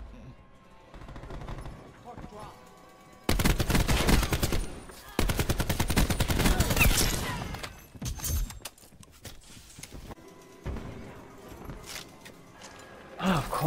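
Bursts of rapid gunfire in a Black Ops 4 match on the Casino map, a loud dense burst and then a second, with scattered shots, footsteps and a speaking voice around them.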